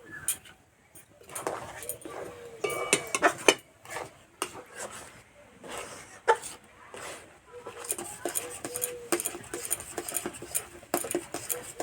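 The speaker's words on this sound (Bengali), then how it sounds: "এইভাবে সমানে নাড়তে হবে" A spoon stirs milk with rice flour, date palm jaggery, a pinch of salt and cardamom in a pot, giving close, irregular scrapes and light clinks against the pot's metal over a speaking voice.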